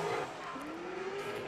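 A drift car slides sideways at a British Drift Championships pro-am qualifier at Teesside, its tires letting out a sustained rising squeal over loud engine and road noise, with no one speaking.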